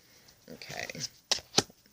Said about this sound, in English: Let me give it one more shuffle, and then I'm going to cut for you.